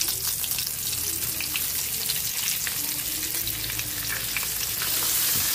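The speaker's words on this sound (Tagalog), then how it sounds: "Magpiprito na po tayo ng ating chicken." Chicken pieces frying in hot oil, a dense continuous sizzle and crackle close up with faint stirring, no talk.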